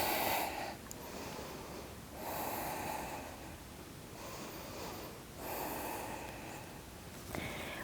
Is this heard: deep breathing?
yes